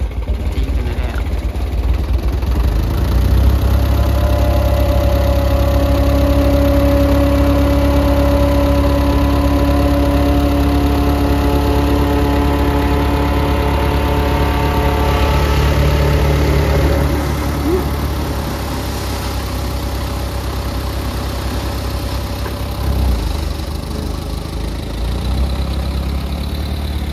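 A digger engine runs steadily while flattening dirt at a front step, a loud, close, continuous idling drone with a low rumble, easing slightly in level partway through, with no talk over it.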